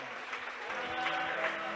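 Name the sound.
church congregation applauding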